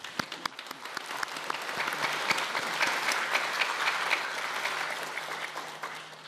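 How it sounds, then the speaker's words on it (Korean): Applause from children and adults at a children's national assembly session, thanking teachers and parents; scattered claps swell into a dense, steady round that gradually thins out. "감사의 마음을 담아 박수를 한번 보내주시기 바랍니다"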